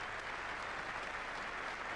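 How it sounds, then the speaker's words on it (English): Steady applause from a cricket crowd at the Oval, a dense, even wash of clapping heard from a distance for the full two seconds with no break. "Receiving a good hand from this crowd at the Oval."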